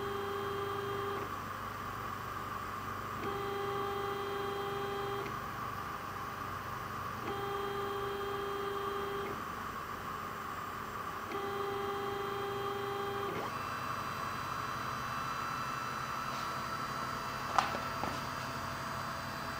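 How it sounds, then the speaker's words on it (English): A laser cutter works through 3 mm plywood, its motors giving a low, steady hum broken by regular pulsing tones as the head moves, with a faint click near the end. "this is a speed of 5 and a power of 80, cutting through, I think this is 3 millimeter plywood"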